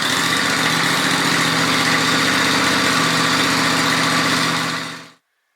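John Deere 111 lawn tractor engine running at a steady idle, a loud close small-engine drone with a rhythmic low putter that cuts off abruptly near the end.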